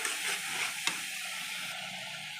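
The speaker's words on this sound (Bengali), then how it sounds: "লঙ্কা গুঁড়ো, হলুদ গুঁড়ো দিয়ে সমস্ত মশলাগুলোকে ভালো করে কষিয়ে নেব যতক্ষণ না তেল ছাড়ে মশলা থেকে" Spice paste with chili and turmeric powder frying in oil for a katla fish kalia, a dense continuous sizzle with a single brief stir or tap, steady and close, no speech.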